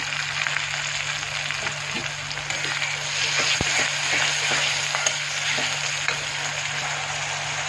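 Onions and tomatoes frying in a pan over a gas flame, a soft steady sizzle with occasional spatula stirs and a single sharp knock, close by and fairly quiet.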